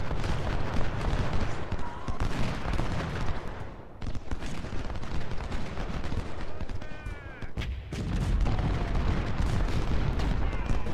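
Civil War battle gunfire in the strategy game Ultimate General rolls on almost continuously: dense crackling musket volleys and heavy booms, loud and layered, with a brief lull midway before the firing surges again.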